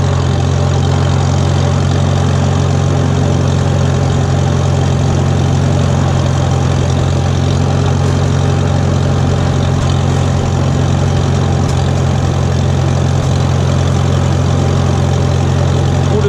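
A 1941 Farmall H tractor engine idles steadily and loudly, a deep continuous rumble with a heavy throb that holds unchanged throughout, no voices.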